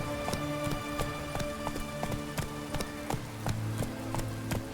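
Roach, a horse in The Witcher 3 video game, gallops with quick, evenly spaced hoofbeats over a continuous in-game background hum, loud and close, with no voices.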